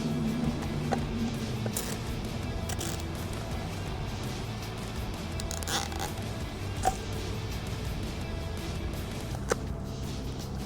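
A zip being fastened and pulled tight on a strap during an unboxing, several faint short rasping pulls over a low steady background hum.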